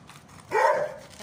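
A dog at play gives one short, sharp bark, close and clear against a quiet background.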